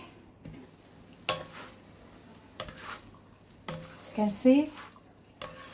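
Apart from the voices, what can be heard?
palabok sauce cooking and being stirred in pan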